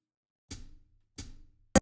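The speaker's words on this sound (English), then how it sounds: "I added some low end to this hi-hat. So now it sounds like this." Two spaced hi-hat hits with a noticeably thumpy low end, each ringing briefly, followed by a quick sharp closing tap.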